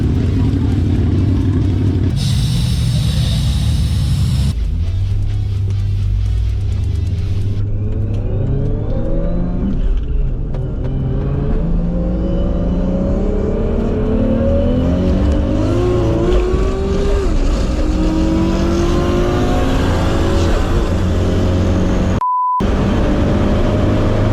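A Nissan GT-R launches hard in a roll drag race, its engine note climbing through several gear changes in a long, loud, rising roar with a brief cut near the end, with no talk over it.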